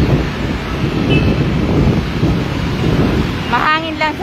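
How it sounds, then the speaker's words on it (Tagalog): Heavy wind buffets the microphone in a constant rough roar, close and loud, with a brief voice breaking in near the end. "Mahangin lang sa labas."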